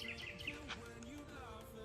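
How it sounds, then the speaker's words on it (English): Birds chirp and sing outdoors on a fine day, bright warbling calls in short bursts over a steady low hum, moderately faint and fairly close. "Hear the birds out."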